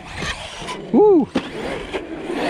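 An Arrma Outcast 8S RC truck with a rebuilt rear drives outdoors in light wind. Its electric motor gives a short rising and falling whine among scattered knocks and bumps, fairly close.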